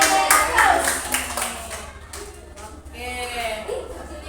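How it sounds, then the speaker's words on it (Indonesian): A sixth-grade elementary class claps together in a brief burst, the clapping strongest at the start and fading while a teacher's voice and children's chatter carry on. "Tepuk tangan untuk kita semua"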